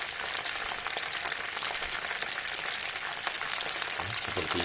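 Steady crackling sizzle of battered oyster mushrooms frying in hot oil, close and continuous, with faint clinks underneath.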